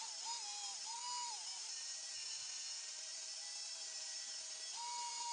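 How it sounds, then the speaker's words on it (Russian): Cordless drill running at low speed to stir casting resin with its catalyst, a steady continuous whine with slight pitch dips and rises as the load changes, close and alone with no talk. "теперь на маленьких оборотах буду при помощи шуруповерта перемешивать"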